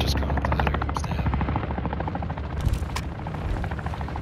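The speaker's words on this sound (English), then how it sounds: "Oh, is that a bomb drone?" Bomb drone in a third-person shooter game, a steady loud rotor-like buzz droning continuously throughout, with occasional bursts and thuds layered over it.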